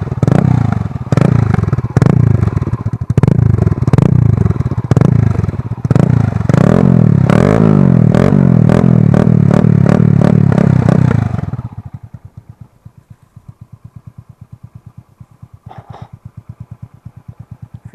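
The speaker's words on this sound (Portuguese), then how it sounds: "mas o som do escape aí." A Honda Pop 100 motorcycle fitted with a Mini Fortuna Trioval exhaust is revved hard in loud, rapid blips for about twelve seconds, then settles into a quieter, steady put-putting idle at close range.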